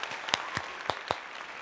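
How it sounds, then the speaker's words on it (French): A handful of separate claps during a live stream, four or five sharp isolated hand claps spaced unevenly over a couple of seconds, close and fairly quiet against a faint background. "On applaudit Kim Glow."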